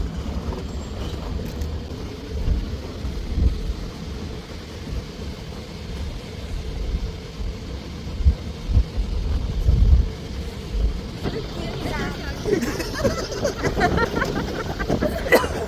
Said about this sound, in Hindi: और जो गाड़ी अभी इस समय जा रही है ये स्टे वाली गाड़ी है